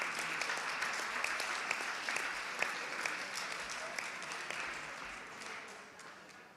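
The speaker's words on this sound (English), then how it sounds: "Can we give them a round of applause because they really do look magnificent." An audience at a show gives a sustained round of applause for a lineup in the utility and pastoral groups, with a dense, even patter of clapping that eases slightly toward the end.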